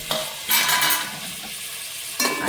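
Vegetables and boiled chickpeas are stirred in a frying pan, a close sizzle broken by two loud bursts of scraping and tossing.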